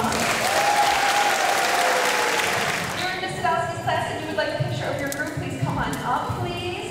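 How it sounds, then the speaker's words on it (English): Loud audience applause and cheering at a fifth grade completion ceremony in a school gym, a dense roar of clapping that fades as a voice starts talking over it and the crowd settles. "please give him a round of applause"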